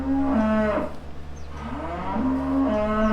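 A cow moos on a farm with two long, loud, drawn-out calls, near and clear over a steady low background hum, with no talk.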